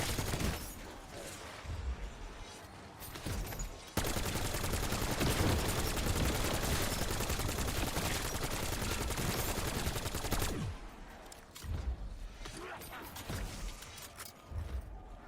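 Rapid gunfire from the zombies mode of the video game Black Ops 7, with sparse shots at first, then a dense, loud sustained burst of automatic fire that lasts several seconds before easing back to scattered shots.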